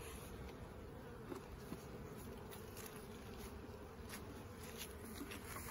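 Honey bees buzz steadily inside a beehive as the colony gathers in the upper box, with a dense continuous hum holding at an even, close level throughout and no voices.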